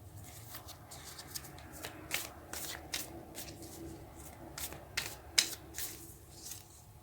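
Tarot cards shuffled by hand, a quiet series of short riffling slaps and flicks in irregular rhythm, close but soft.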